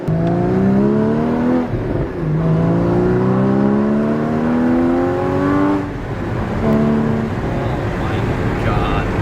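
A sports car engine revs hard up through the gears, its pitch climbing steeply with brief dips at each change, loud and close, while people talk over it.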